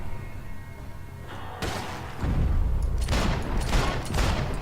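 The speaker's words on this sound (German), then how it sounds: "3 Schüsse." Gunfire in the video game Max Payne 3: several sharp, loud booming shots burst out one after another over a rumbling in-game background.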